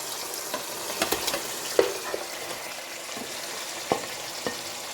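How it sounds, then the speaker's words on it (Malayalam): Chicken pieces go into a pan of thick, reduced chicken gravy and are stirred. A steady frying sizzle runs throughout, with scattered close spoon scrapes and soft knocks. "ഇനി നമുക്ക് എടുത്ത് വെച്ചിരുന്ന ചിക്കൻ ഇതിലോട്ട് ഇടാം."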